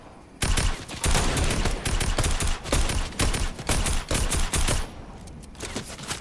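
Bursts of rapid automatic gunfire and single shots crack loudly through a video game firefight, coming in dense clusters with short gaps between them and no one speaking.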